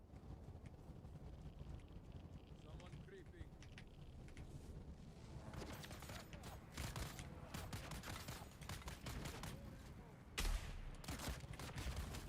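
Gunfire in Dune: Awakening, a string of sharp crackling shots in rapid bursts, moderately close, over a steady windy, mechanical background drone with faint talking.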